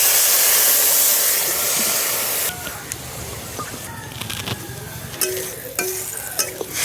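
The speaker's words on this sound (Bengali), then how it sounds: "এরপর দিয়ে দেবো জল।" Water poured into a pan of frying koi fish curry in spices, a loud rushing sizzle at first that drops sharply and settles into quieter bubbling with scattered stirring clatters.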